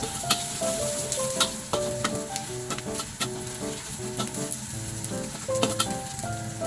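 Garlic sautéing in a pan for monggo with pork knuckles, a steady loud sizzle with sharp clicks and scrapes of stirring, while background music with melodic tones plays throughout.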